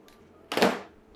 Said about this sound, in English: So I use this Kiss Beauty Fixing Spray first.